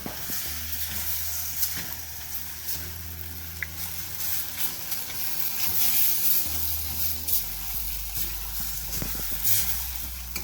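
Gur chutney sizzles in a pan while being stirred, a continuous close hiss with scattered scraping and clicking from the stirring and no talk over it.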